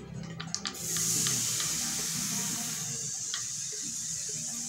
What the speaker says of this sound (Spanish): llega el momento de ponerle la salsa o el tomate, pues, lo que ya molimos